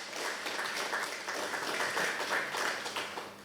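Audience applause at a Chamber of Commerce and tourism gathering, a steady wash of many hands clapping at moderate volume throughout, with some faint voices mixed in.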